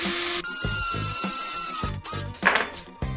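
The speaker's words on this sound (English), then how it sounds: "drill a really close to 90-degree angle hole in a piece of wood" A high-pitched hand-held power drill whirs steadily, then bites into a piece of wood at a 90-degree angle in short bursts with grinding, chattering noise up close.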